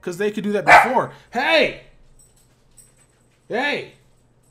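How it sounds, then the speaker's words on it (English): A voice speaks briefly, then a dog gives a couple of barks nearby, separated by a short pause. "And I'm not answering it, so hopefully you better stop barking."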